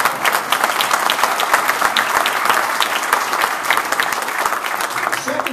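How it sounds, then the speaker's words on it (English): Audience clapping steadily at a political speech by Kasich on SB5 in Zanesville, a dense sustained round of applause with no talk over it. "yeah, you can clap on that."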